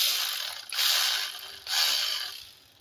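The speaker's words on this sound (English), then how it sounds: "Now you should have all your coils in, ready to tighten these bolts back up." Ratchet wrench tightening ignition coil bolts on a 2006-2011 Toyota Camry engine, two close bursts of rapid clicking pawl strokes with a short pause between them.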